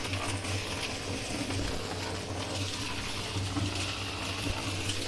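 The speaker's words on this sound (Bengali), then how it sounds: "এটা কংক্রিট মিনি মিক্সচার, এখানে জলটা মেশান" Water churns inside a concrete mini mixer while making ventilator moulds, a steady rumbling slosh with a low mechanical hum underneath, no voices.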